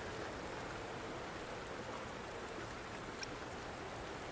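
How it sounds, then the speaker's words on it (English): Steady, soft rainfall in the video game Wuthering Waves, an even wash of drops with no voices over it. "Are you trapped here by the rain?"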